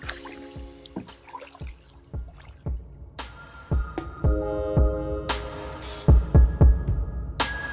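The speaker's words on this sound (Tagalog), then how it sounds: "So, nag-start na kaming mag-paddle." Kayak paddling on calm water in El Nido, a series of soft rhythmic splashes and hollow knocks of the paddle against the hull, close and steady, with a faint high hum early on.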